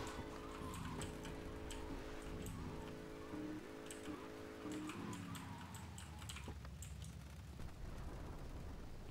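Heavy in-game rain hiss in GTA Trilogy Definitive Edition, with a stuttering, repeating tonal loop as the game audio glitches for about five seconds before breaking off into steady rain and scattered taps.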